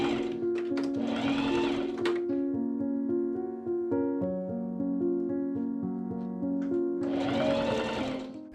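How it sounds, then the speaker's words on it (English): A sewing machine stitches a pocket seam on Regency-style men's pantaloon trousers, running in close bursts at the start and end with steady tonal music underneath. "I machine sew that pocket seam"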